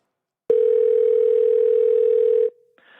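Telephone dial tone heard while placing a call: a loud, steady single tone holds for about two seconds, then cuts off abruptly, followed by a faint quieter sound.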